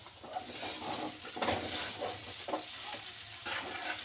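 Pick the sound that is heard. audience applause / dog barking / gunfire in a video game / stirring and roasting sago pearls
stirring and roasting sago pearls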